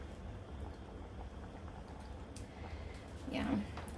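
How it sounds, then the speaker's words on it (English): Pot of chicken gyro sauce boiling on the stove, a steady bubbling hiss throughout with a brief louder surge of bubbling near the end; no talking over it. "So now it's got a good little boil going."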